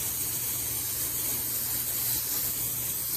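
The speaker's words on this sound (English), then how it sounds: "But if they're blooming, I'm avoiding to spray it on the flowers." A fertilizer sprayer hisses steadily as it mists orchid roots in a garden, one continuous broadband spray lasting a few seconds, close and fairly loud.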